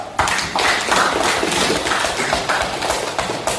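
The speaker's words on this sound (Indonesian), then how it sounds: "Oke, kita kasih aplaus." A classroom group gives a round of applause after a discussion presentation, dense steady clapping from many hands close by, lasting a few seconds.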